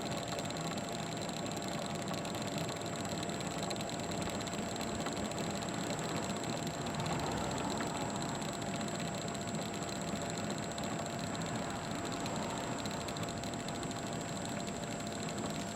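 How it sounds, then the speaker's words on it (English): A self-propelled lawn mower's engine runs at a steady idle, an even, continuous drone with a constant hum and no change over the length of the clip. "The engine's running."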